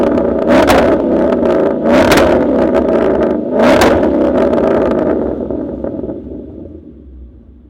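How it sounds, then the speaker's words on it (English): A Mustang engine with a two-step launch limiter revs hard several times in loud bursts over a steady rumble, then settles and fades as it idles down. "hop in, do a couple of revs"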